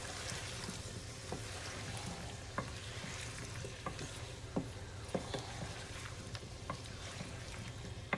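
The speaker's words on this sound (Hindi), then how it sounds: "ये मैंने एक पूरी काट के डाल दी है और बस थोड़ी सा मैं सौते करूँगी।" A whole chopped jalapeño pepper sautés in a pan, giving a faint, steady sizzle broken by occasional light clicks from stirring.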